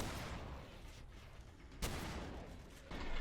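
A shotgun fires in the Dead Island video game: one sharp, loud blast cuts through a dense, noisy game soundscape, and another burst of sound follows near the end.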